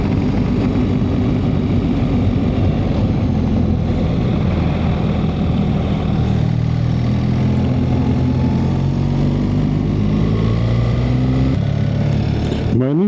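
A BMW R 1300 GS Adventure motorcycle on the move gives a loud, steady engine drone mixed with rushing wind noise, the pitch gradually climbing toward the end.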